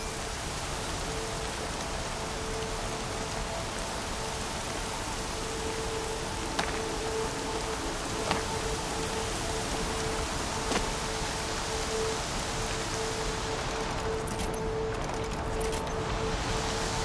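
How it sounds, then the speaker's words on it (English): Rain falls steadily in the video game Horizon Zero Dawn, a dense, even hiss that lasts throughout with a faint low tone underneath and a few soft ticks of drops. "Air's heavy with rain."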